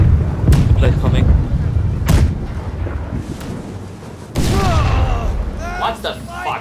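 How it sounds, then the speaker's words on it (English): Grenade blasts and gunfire in the pirate naval battle game Blackwake, with sharp loud booms around the first and second seconds and a heavier burst later, over a busy battle din while players talk. "Someone just shot a grenade and I'm bleeding"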